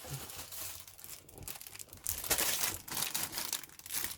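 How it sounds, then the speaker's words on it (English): A resealable plastic bag of parts from a 1/35 Pz.Kpfw.III Ausf.J tank model kit is handled up close, giving a run of uneven crinkling and rustling that grows louder in the second half, with no talk. "we shall start with this bag. Are they resealable? Yes, they are."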